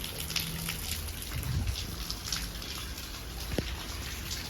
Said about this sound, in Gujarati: તમે જુઓ વરસાદ કેવો પડે છે